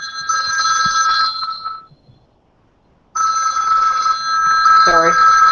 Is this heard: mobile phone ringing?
yes